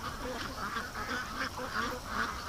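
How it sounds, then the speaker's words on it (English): Five Canada geese arrive at a lake, giving repeated rhythmic honks that come through moderately loud over a steady background. "5 Canada geese coming in."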